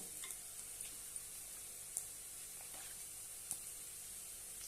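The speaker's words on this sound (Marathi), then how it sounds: "सर्व छानपैकी परतून घेऊया" Okra with gram flour sautés in a pan, a faint, even sizzle with occasional soft clicks of stirring, quiet and without talking.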